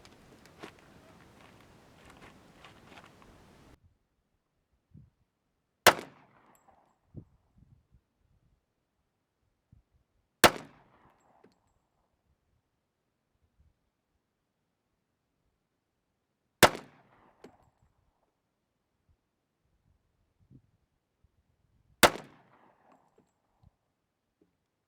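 A 1911 pistol fires .45 ACP 230-grain reloaded rounds outdoors, four sharp single shots spaced several seconds apart with quiet gaps and small clinks between them.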